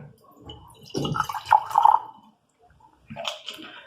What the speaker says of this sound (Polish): Czas zrobić nalewanko.